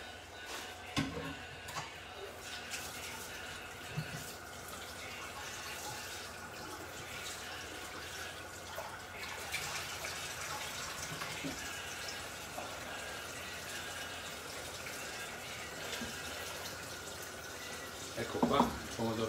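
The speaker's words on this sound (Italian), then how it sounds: "Le passo sotto l'acqua adesso" A kitchen tap runs over cleaned gurnard fish being rinsed for a fish soup: a continuous splashing water stream, fairly close, with a voice talking intermittently.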